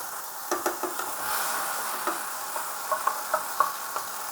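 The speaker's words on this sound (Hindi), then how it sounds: "अब मैं इन सरसों में मसाला डालूँगी।" Ground spice paste is stirred into mustard seeds frying in oil for stuffed bitter gourd. A steady sizzle runs throughout, with repeated spoon taps and clinks that grow more frequent toward the end.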